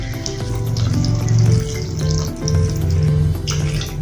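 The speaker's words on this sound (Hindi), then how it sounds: "वही पानी इसमें हम थोड़ा सा अभी डाल देंगे" Warm water is poured into a pan of cooking potato and eggplant curry, making a loud continuous splashing and bubbling hiss close by, with no talk.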